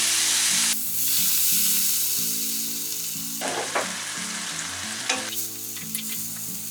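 Red wine hits a hot pan of bolognese beef mince and sizzles loudly, a steady close frying hiss with stirring scrapes and brief bursts as the liquid bubbles and steams off.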